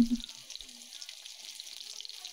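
Cooking oil heats in a kadai (wok) for a village-style farm chicken curry, giving a faint, steady hiss after a brief knock at the start, with no talking.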